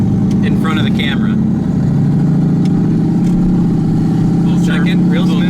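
Turbocharged LSX-swapped Chevrolet Colorado engine idling with a low, steady rumble at a stoplight, heard from inside the cab with voices talking over it throughout.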